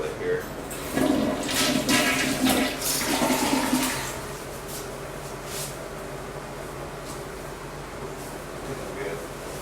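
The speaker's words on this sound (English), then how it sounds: "Flush this toilet here." A household toilet flushes close by with a loud rushing gurgle for about four seconds, then settles into a softer hiss of the tank refilling.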